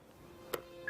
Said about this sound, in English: Billy, pick up the phone.